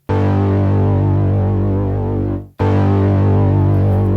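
A static synth bass from Ableton Wavetable, with its envelope removed, drones loud and sustained with a buzzy, rich tone, cuts out briefly midway, then resumes at full level, with no voices.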